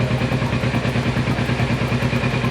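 Warm motorcycle engine idling steadily during a 600 mile service, close and loud with a rapid, even pulsing throb and no talk.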